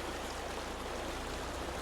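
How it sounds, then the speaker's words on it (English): A vehicle drives through water in Farming Simulator 25 on a preview of the Calmsden map, giving a steady, dense rushing and splashing wash that holds unchanged from start to finish. "we're definitely driving through the water"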